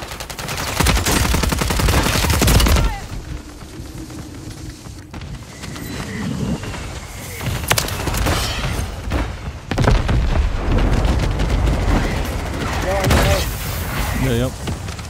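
RPK machine gun fire in Call of Duty Warzone on Rebirth Island, heavy automatic bursts and thumping impacts in several loud stretches, with players talking over parts of it.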